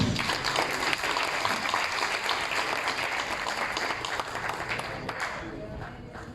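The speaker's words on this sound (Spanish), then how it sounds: "Un fuerte aplauso, jóvenes." A crowd of young people applauds loudly during a certificate presentation at an academic forum, a thick, sustained roar of clapping that tapers off toward the end.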